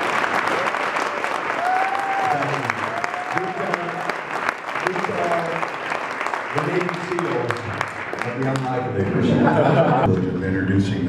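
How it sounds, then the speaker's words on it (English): Big round of applause at a fundraiser dinner, dense sustained clapping filling the room with chatter and some laughter mixed in, swelling louder toward the end. "we'll give them all a big round of applause"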